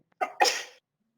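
A single sharp sneeze with a short intake burst followed by the explosive release, close and loud, then silence.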